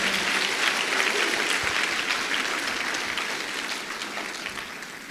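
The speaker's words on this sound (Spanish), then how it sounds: "Denle un aplauso fuerte al Señor" A church congregation claps together during a Spanish-language service, a full, steady wash of applause that starts strong and gradually fades over a few seconds.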